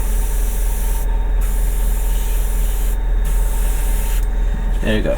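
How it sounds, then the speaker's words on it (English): Steady close hiss of a Bartsharp airbrush spraying paint, continuous throughout with brief dips in the high hiss, and a faint clatter at the end. "It's a really nice airbrush."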